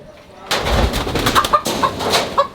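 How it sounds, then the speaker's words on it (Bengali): A desi rooster squawks and clucks in sharp, loud bursts while it is chased and caught outdoors, with scuffling and a short voice nearby. "মোরগ"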